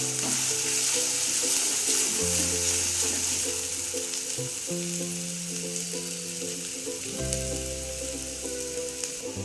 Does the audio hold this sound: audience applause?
no